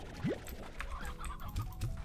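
Chickens in the game Slime Rancher cluck in a few short, bright calls over a busy bed of game ambience and music, with no talking.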